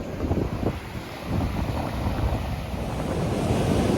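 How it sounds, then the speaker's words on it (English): Ocean waves at Clayton's Beach on the Indian Ocean surge and wash steadily in a broad, continuous roar, with gusts of wind buffeting the microphone throughout. "This is the Indian Ocean. This is Clayton's Beach."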